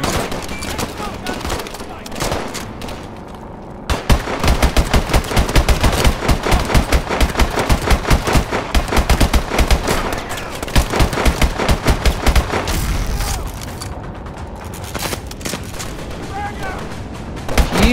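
Dense, sustained gunfire from the video game Call of Duty Advanced Warfare, rapid automatic bursts cracking loudly and continuously for long stretches, with a quieter lull at the start and near the end.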